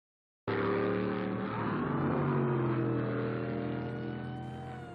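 Race cars on a track during an auto race sweep past close by in a loud, sustained roar. The engine notes shift in pitch as the pack bunches up, and the noise slowly fades toward the end.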